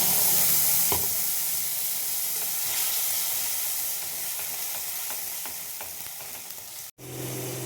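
A paste of tomato, green chilli and ginger fries in hot oil for a spicy parshe fish curry. A loud, dense, steady sizzle hisses throughout, with a few faint stirring knocks and a momentary dropout near the end.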